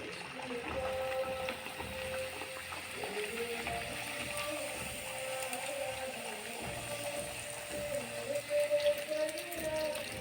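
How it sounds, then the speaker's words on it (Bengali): Luchi puris made from flour and semolina fry one at a time in hot oil, giving a steady close crackling sizzle with scattered pops over a faint mechanical hum. "এবার মা একটি একটি করে লুচিগুলো ভেজে নিচ্ছে"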